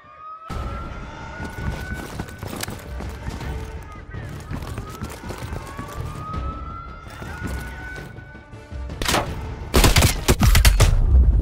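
Enemy gunfire in a Call of Duty: Black Ops Cold War firefight, with rising siren-like wails through most of the stretch and a burst of loud shots near the end, under a player's talk.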